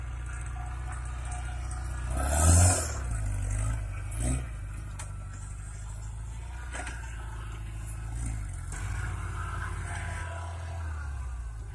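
Homemade tractor powered by a VAZ car engine, ploughing a field in autumn rain, a steady low engine drone throughout with a louder surge and clatter around the third second, then settling back to a constant rumble.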